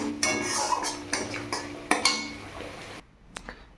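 Spices stir-fried in oil for a fig curry, with close, sharp spoon clinks and scrapes against the pan in an irregular rhythm over a soft sizzle. The sounds stop abruptly, leaving near silence and one last faint tap.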